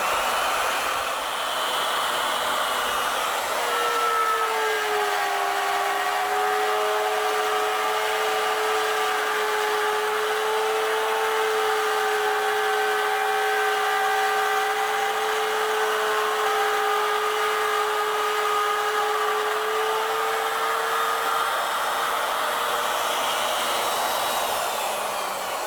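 A 1.5 inch diameter cutter machines 1.5 inch diameter stock, giving a continuous whining hum that holds a steady pitch for about twenty seconds over a broad hiss, then winds down at the end, close and alone with no talking.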